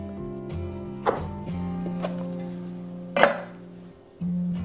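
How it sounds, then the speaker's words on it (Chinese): A knife cuts cooled, steamed taro cake topped with toasted white sesame into small pieces, giving a few separate dull thunks against a board over a steady low kitchen hum. "直接改刀给它切成小块"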